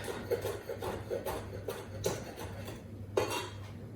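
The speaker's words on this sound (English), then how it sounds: "I'm just dicing up a small tomato" A knife dicing a small tomato on a cutting board, with faint, quick irregular taps and clinks at close range in a quiet kitchen, no talking.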